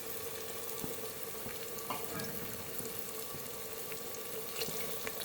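Water poured into a hot pan for potato and pea curry, a steady splashing pour mixed with sizzling, close and continuous, with no talking.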